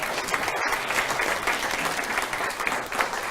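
A seated pub audience at a science talk claps together in steady, dense applause with a few cheers, filling the room evenly at moderate loudness, with no clear speech on top.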